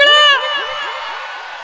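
A crowd of men in a live comedy show audience roars and whoops loudly, a sustained rising shout with overlapping voices that fades slightly toward the end.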